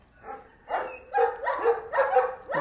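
A pet dog gives a run of four or five close, loud barks, some with a whiny yelp to them, after a softer opening yip, with no one talking.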